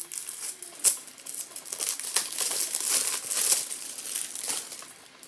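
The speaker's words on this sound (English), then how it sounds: "Once again, unwrap the packaging for this bad boy." Plastic wrap being peeled off a DVD of the original Pet Sematary, heard as close, crisp crinkling and crackling in irregular bursts throughout, with no one speaking.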